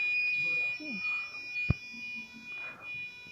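A buzzer driven by an Arduino gives a thin, high electronic tone that holds steady throughout, sounding quietly beneath a voice talking over it, with one sharp click partway through.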